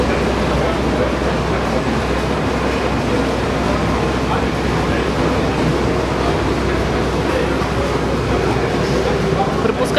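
A robot vacuum cleaner sorts crushed grain pellets, giving a steady, loud mechanical drone and rumble that holds constant throughout with no clear breaks.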